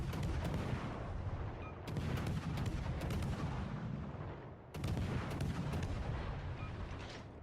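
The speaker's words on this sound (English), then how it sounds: "we're just keeping the constant barrage of fire on him" Continuous naval gunfire barrage in World of Warships Legends, dense rumbling salvos rolling on without a break, with two sharp restarts as fresh volleys land close and loud.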